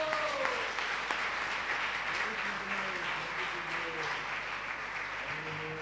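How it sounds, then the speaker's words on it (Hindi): A church congregation at a blessing meeting applauds for Jesus Christ, a dense, steady wash of clapping that fills the whole stretch, with faint voices underneath. "एक अच्छी ताली यीशु मसीह के लिए हो जाए।"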